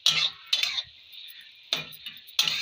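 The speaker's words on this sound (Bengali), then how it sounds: "আবারও নেড়ে দেবো।" Spices with turmeric, ginger and garlic paste for a bhetki fish curry stirred in a pan: four separate bursts of scraping and clinking spoon strokes with short silent gaps between them.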